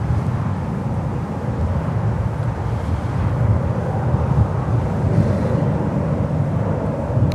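A United 737 airliner takes off at Newark airport in New Jersey, a broad, steady low roar heard from outdoors, mixed with gusty wind buffeting the microphone.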